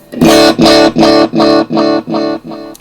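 A distorted, warm tone from a vintage-style delay pedal with high feedback repeats six or seven times in an even rhythm, each echo slightly quieter and darker than the last, loud and with no voices.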